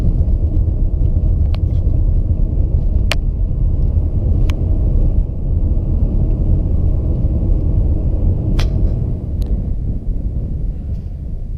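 A car driving along moorland roads in the Pennines, with a steady, loud engine and road rumble running throughout and a few brief sharp clicks or knocks inside the cabin.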